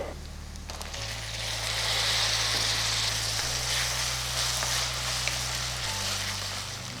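Bright, continuous sizzling as small cut pieces of a large potato go into onions frying in a pan for a pea kurma, with a low hum underneath and a slight swell in the frying noise.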